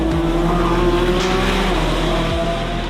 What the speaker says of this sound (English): you go on power and you look at this, it's so fun